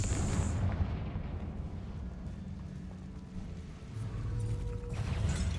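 Confringo blasting-curse explosions in a Harry Potter video game: a heavy low rumbling boom that swells, fades, then builds again with scattered crackling debris, fairly loud and with no speech.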